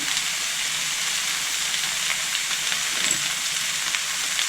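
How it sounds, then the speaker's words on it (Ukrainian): Vegetables for a pumpkin cream soup sizzle and fry steadily in a pan, a continuous close hiss with no pauses and no talking. "Овочі підсмажилися"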